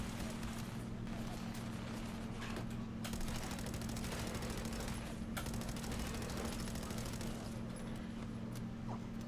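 Rapid gunfire from a weapon in the video game Fallout 4, dense bursts of shots running almost continuously and fairly loud, with brief breaks.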